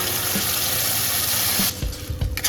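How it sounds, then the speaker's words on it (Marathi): Ground spice paste for matar paneer drops into hot oil in a kadhai, setting off a loud, dense hiss that abruptly thins out partway through into softer sizzling and a few knocks of stirring. "कढईमध्ये मी दोन ते अडीच चमचे तेल घातलेलं आहे आणि हे वाटण आता आपल्याला पूर्णपणे टाकून घ्यायचं आहे"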